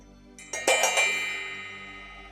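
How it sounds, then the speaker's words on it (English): A bell is struck, giving a couple of quick metallic hits and then a clear ringing tone that slowly fades away. "I'm going to ring our bell."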